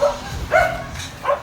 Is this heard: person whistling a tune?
no